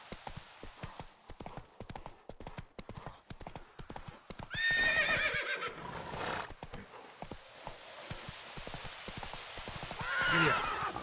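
A horse in The Witcher 3 game clip-clops at a quick gallop in a steady rhythm and gives two loud whinnies, one midway and one near the end, with a voice briefly heard.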